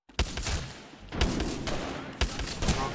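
Gunfire in Apex Legends, three sharp bursts of rapid shots about a second apart, close and punchy with a brief echoing tail after each.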